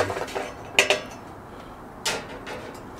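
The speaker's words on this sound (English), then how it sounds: "I'm going to stir it up some." A metal spoon clinks against a pot of New Orleans-style red beans cooking over a Solo Stove campfire, a few sharp scraping knocks in quick succession, then another pair after a pause.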